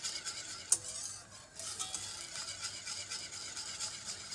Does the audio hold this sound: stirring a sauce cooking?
yes